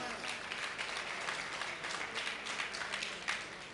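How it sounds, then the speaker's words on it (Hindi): Crowd applause at a Jain religious festival gathering, continuous dense clapping that holds steady for several seconds with a few louder individual claps, moderately near and mostly free of speech. "ये तालियां इसीलिए बजाई जा रही हैं"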